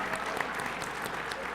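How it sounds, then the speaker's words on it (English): Audience applause for women leaders at a conference session, a steady wash of clapping from a seated crowd, moderately quiet and continuous throughout. "round of applause for all the women here."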